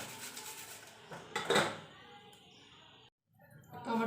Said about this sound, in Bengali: আমি পেঁয়াজটা ঘষে নিই।